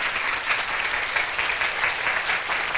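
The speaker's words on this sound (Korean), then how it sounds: "이 시간에 나오실 때 여러분 모두 기립하셔서 뜨거운 박수로 맞아주시기 바랍니다." A church congregation applauds warmly to welcome a guest pastor at an anniversary service, a thick, continuous roll of clapping with no speech over it.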